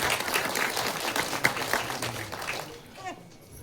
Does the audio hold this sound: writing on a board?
no